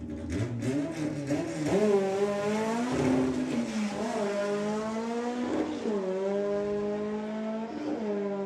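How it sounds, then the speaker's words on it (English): A drag racing car at Santa Pod Raceway runs the quarter mile with a manual gearbox, its engine revving up in repeated rising pulls broken by distinct gear-change dips, heard at a distance and fading slightly. "If you ever want to hear a car manually shift up the quarter mile, just listen to that."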